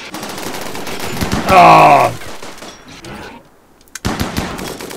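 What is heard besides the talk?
gunfire in a film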